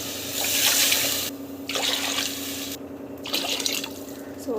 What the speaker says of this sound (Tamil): 2 டம்ளர் தண்ணி ஊற்றுறோம்.